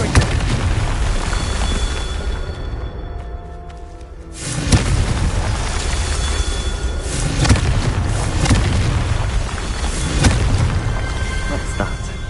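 Confringo fire spell blasts in the video game Hogwarts Legacy, loud booming bursts over a dense, continuous game soundscape, with a sharp surge just before five seconds and further heavy hits later.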